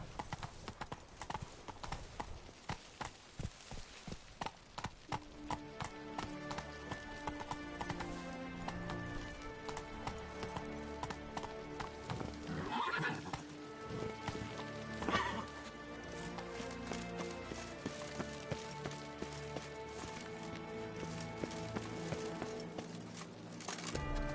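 Roach, Geralt's horse in The Witcher 3, walks with a steady clip-clop of hooves and gives an occasional whinny, set against game background music with sporadic voice in the mix.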